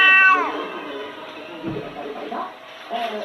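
A pet cat named Octavio meows loudly and clearly at the start, a sustained harmonic cry that fades into softer murmuring sounds and a faint later vocalization.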